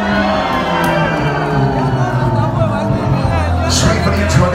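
A large crowd at a drum and bass event with Dillinja screams and cheers continuously, loud and dense, with whoops rising near the end.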